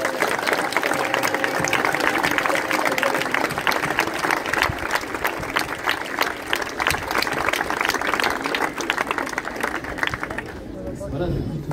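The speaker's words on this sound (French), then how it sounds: "j'aimerais qu'on fasse un tonnerre d'applaudissements" A crowd gives a long, thunderous round of applause, dense rapid clapping mixed with chatter that goes on for about ten seconds before cutting off abruptly near the end.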